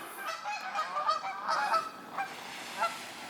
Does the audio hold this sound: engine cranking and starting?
no